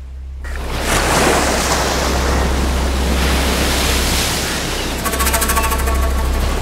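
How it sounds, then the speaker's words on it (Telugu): Strong wind roars over crashing sea waves in a loud, continuous broadband rush on the open ocean, steady throughout with a brief rattling burst near the end. "ఏంటి సముద్రంలో ఇలా గాలులు వస్తున్నాయి?"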